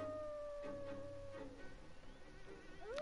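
Rocky-mountain wolves from The Long Dark video game howl at a distance, one long sustained tone fading out and another rising at the end, faint under a low hum of wind and game ambience.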